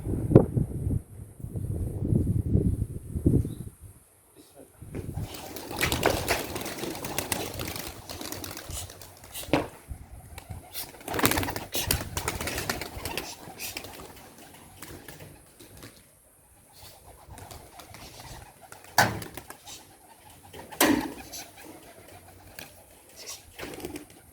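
Young pigeons on their first training flight: bursts of wing flapping and fluttering with soft cooing and bird calls, some near and some fading, in an outdoor loft setting.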